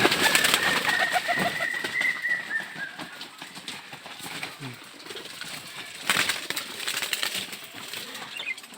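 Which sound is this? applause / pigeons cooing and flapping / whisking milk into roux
pigeons cooing and flapping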